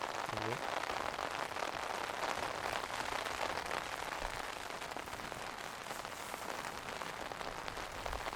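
Steady rain patters on a shelter overhead in the woods during a deer hunt, a dense, even hiss of drops close by with no break.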